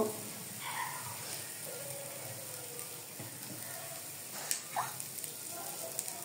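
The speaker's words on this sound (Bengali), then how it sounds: "কড়াই গরম হয়ে গেছে, তেল দিব।" Oil hits a hot kadai with a steady, soft hiss and crackle that runs the whole time, with a few brighter pops toward the end. Someone talks faintly underneath it.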